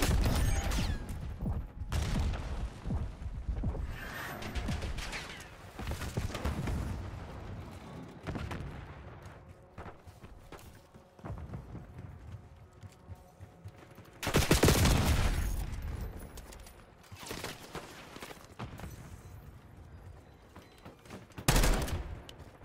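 Call of Duty Black Ops 6 multiplayer firefight with dense, continuous rattling gunfire and machine-gun bursts, punctuated by a few louder close booms and sharp crackling volleys throughout.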